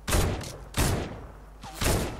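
Gunfire in Fortnite comes as three heavy, booming bursts spaced about a second apart, loud and close, each trailing off into a short echo with no talk over them.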